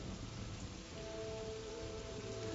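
Steady rain hisses throughout, with a low rumble of thunder rolling underneath.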